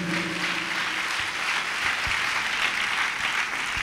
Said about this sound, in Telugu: చప్పట్లు కొట్టి దేవుని మహిమపరచండి గట్టిగా